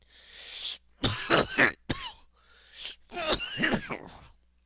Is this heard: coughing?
yes